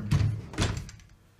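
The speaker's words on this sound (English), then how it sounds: "Pocket door." A pocket door in a 28-foot custom tiny house slides shut, giving two dull, close wooden thuds about half a second apart, then quiet.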